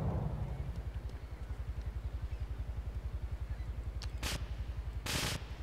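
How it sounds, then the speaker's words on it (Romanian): Rapid automatic M4 rifle fire in GTA III, a long steady burst of evenly spaced shots rattling through the whole stretch, loud and close, with a couple of sharper bright impacts near the end. "Dăm cu M4-ul."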